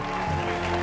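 Brief applause from a studio audience on a television talk show set, a dense patter of clapping that stays steady for under a second.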